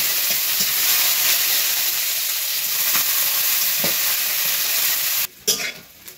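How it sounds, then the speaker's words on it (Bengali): Chopped onion and garlic frying in hot oil with a loud, continuous hissing sizzle close by, a few stirring taps, then the sizzle cuts off abruptly near the end, followed by quieter clatter. "পেঁয়াজ কুচি আর রসুন কুচি ভালো করে ফ্রাই করে নিছি"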